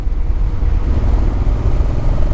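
A Moto Guzzi Quota motorcycle being ridden gives a steady, loud low engine drone with constant road and wind rumble, continuous throughout with no talking.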